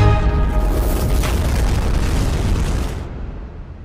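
A glitter bomb slams into a meteor in a loud, close, rumbling explosion that swells at once and fades out over a few seconds.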